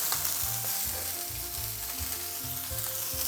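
Broccoli rabe frying in avocado oil in a hot pan, a steady close sizzle that runs without a break, with soft stirring scrapes and no voices.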